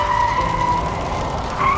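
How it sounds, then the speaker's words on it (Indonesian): A car swerves and skids during a crash, a sustained tire screech that holds steady and fairly loud throughout, swelling again at the end. "Tunangan Anda mengalami kecelakaan, mobilnya oleng dan meledak."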